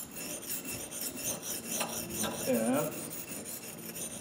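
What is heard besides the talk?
file sharpening garden clippers blade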